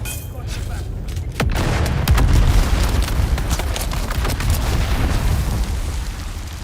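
A bomb goes off in the video game Dune Awakening, a loud boom followed by sustained rumbling and crackling combat noise, with scattered sharp impacts and speech nearby.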